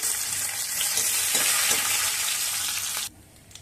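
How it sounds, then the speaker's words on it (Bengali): Nigella seeds and a bay leaf sizzle loudly in hot oil for a rui fish curry. A steady, close frying hiss runs for about three seconds, then cuts off abruptly. "এবার ওই তেলের মধ্যে দেব কালো জিরে একটা তেজপাতা"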